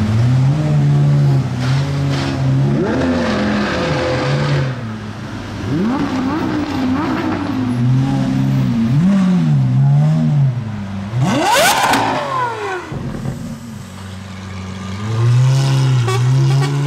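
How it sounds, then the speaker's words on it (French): A car fitted with a Gintani exhaust revs hard several times, each rise and fall of pitch loud and close, with a sharp high burst near the end before the engine settles back to idle. "La pire c'est celle-là, elle a un échappement Gintani."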